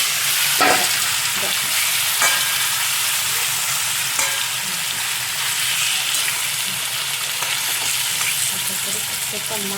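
Pieces of bhetki fish fry in hot oil, a steady loud close sizzle with a few faint clicks and bumps as they settle into the pan, and no talking.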